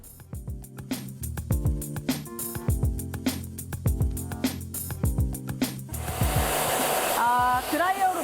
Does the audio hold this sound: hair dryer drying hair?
yes